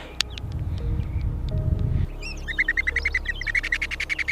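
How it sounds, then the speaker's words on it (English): An oxpecker in the wild among giraffes calls in a rapid series of high chirps, starting after a low rumbling stretch and repeating in a quick, even rhythm, moderately loud with no talk. "The Oxpecker calls again before beginning another careful inspection"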